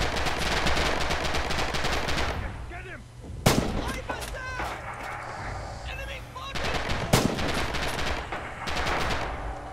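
Machine gun fire in the World War II shooter game Red Orchestra rattles in dense rapid bursts, with sharp louder single shots and short pauses, and faint voices underneath.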